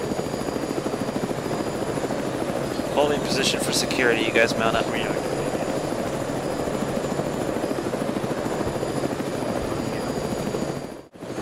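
A helicopter's loud, steady rotor thrum and turbine whine fill the whole stretch up close, while a man gives spoken commands over it partway through.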